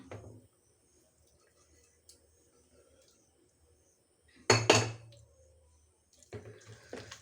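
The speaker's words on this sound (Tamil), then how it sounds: "இந்த வேக வச்சுருக்கிற மட்டன் அதில் போட்டுக்கலாம்" Cooked mutton tipped into a pot of masala and yogurt for mutton biryani, giving a short wet clatter and thud midway, then a second rougher scraping burst near the end, with quiet kitchen stillness between.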